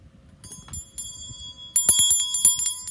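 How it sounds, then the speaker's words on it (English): A bicycle-style bell rings alone and close, a few sparse single dings at first, then a rapid, louder run of repeated rings in the second half. "ring the bell"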